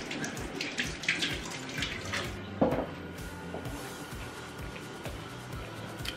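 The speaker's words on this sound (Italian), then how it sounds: "Ok, ho lavato il cucchiaio." Tap water runs steadily while a spoon is rinsed at a kitchen sink during preparation of stuffed tomatoes, with light clinks of utensils and a brief louder splash partway through.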